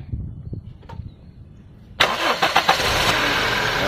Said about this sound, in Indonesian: Kita coba dengar suara mesinnya.